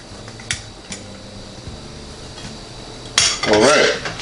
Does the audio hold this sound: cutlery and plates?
yes